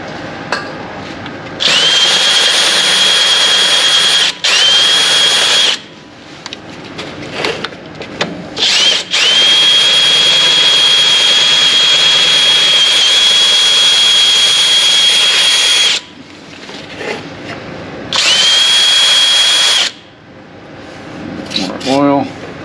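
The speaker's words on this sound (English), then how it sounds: "I don't think I have an option but to drill this out now." A power drill bores out a stuck rotor screw on a Chevy Silverado 2500 HD during a brake rotor job, with several long, loud, close whining bursts separated by short pauses, and a person speaking in the gaps.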